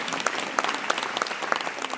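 An audience at a business talk claps in a short steady patter, with sharp, regularly spaced hand claps standing out over a dense bed of applause.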